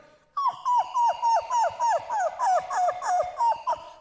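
A man imitates a dog, producing a rapid, rhythmic series of whimpering yelps, close and steady for several seconds.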